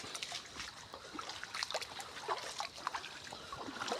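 Rainwater trickling and splashing as it flows through a field during the first rain of the season, a steady close babble with small splatters and no speech.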